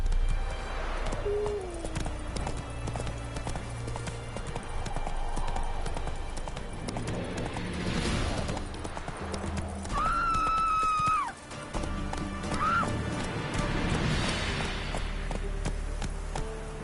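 A horse in the video game The Witcher 3: Wild Hunt, its hooves clip-clopping in a fast continuous rhythm under game music, with a short neigh partway through and no speech.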